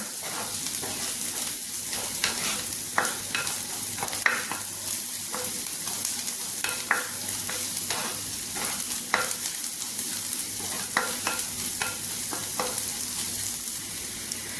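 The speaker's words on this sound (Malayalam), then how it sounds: "ഞാൻ പച്ചമുളകും കൂടെ ഇട്ട് കൊടുക്കാം ഉള്ളിയൊക്കെ നല്ലതുപോലെ ഒന്ന് മൂത്ത് വന്നിട്ടുണ്ട്" Onions and green chillies frying and being stirred in a pan for a Kerala tamarind curry, a steady close sizzle with repeated scraping stir strokes throughout, no talking.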